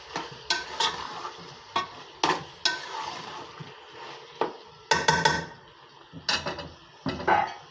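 Chopped tomatoes being stirred into minced meat keema in a pan, a series of clattering spoon scrapes and knocks against the pan in irregular bursts over a faint sizzle, with no talking.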